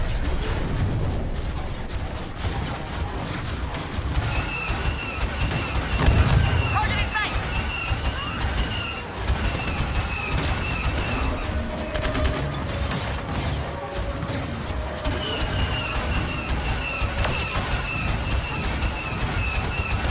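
Bomb explosions and weapons fire in the video game Star Wars Battlefront 2, a continuous dense barrage of booms, blasts and rattling gunfire with a heavier burst in the middle, under occasional game sounds.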